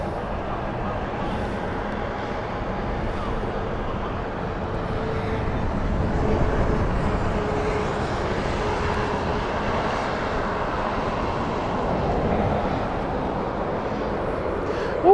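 A jet airliner rumbles at Heathrow Airport, a broad low roar that swells and fades gently over a long stretch, heard from a distance with a steady engine drone and faint background noise.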